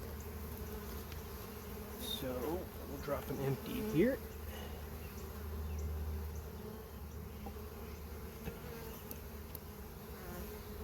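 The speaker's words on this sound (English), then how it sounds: "Feed frame covered in bees." Honey bees cover a feed frame lifted from a hive during early spring swarm prevention work. They make a dense, continuous buzz close by, and someone speaks briefly over the hum.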